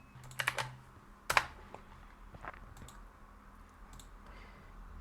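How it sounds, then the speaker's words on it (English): Fingers type a prompt on a computer keyboard, with a quick burst of clicks early on, a sharp louder tap, then lighter scattered keystrokes in a quiet room. "go into Gemini and type this prompt"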